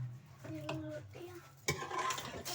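Serving spoon scraping and clinking against a cooking pot as mutton qorma is dished out, soft stirring and scooping noises followed by a louder metallic clatter, with a faint voice in the background.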